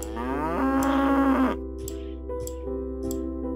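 Cow in the puzzle game Cube Escape: The Mill, a loud, close, drawn-out moo lasting over a second, followed by soft mechanical ticking and clicks over a steady low hum.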